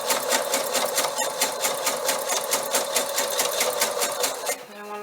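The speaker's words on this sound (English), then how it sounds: "We're sewing through several layers of fabric here" A sewing machine stitches through several layers of fabric on a bunny bag, with a fast, even rhythmic chatter of needle strokes that stops shortly before the end.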